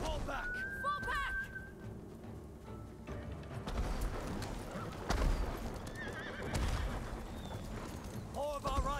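Horses neigh and whinny amid hooves clip-clopping in a chaotic battle from the video game Ghost of Tsushima, with distant gunfire and shouting voices mixed through a dense, loud soundscape.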